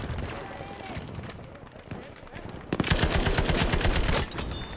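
Type 11 light machine gun firing in the shooter game Battlefield V, a rapid, loud automatic burst of rhythmic shots that follows quieter game ambience and movement, with a voice talking faintly under the action.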